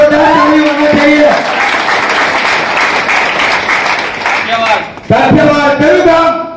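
An audience claps loudly and continuously at a business seminar, dense applause filling the space, with a brief dip before resuming, voices speaking over it.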